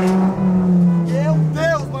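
A Lamborghini sports car drives along with a close, continuous engine drone that climbs in pitch twice as the revs rise, over road and tyre noise.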